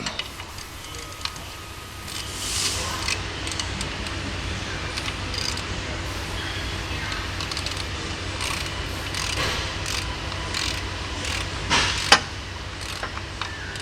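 A wrench turns a stripped oil drain plug under a car, giving faint, steady ratcheting and metallic ticking clicks over a constant low hum, with one sharper clack near the end.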